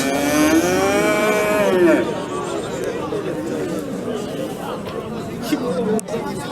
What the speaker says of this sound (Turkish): simental buzağlı inekler var.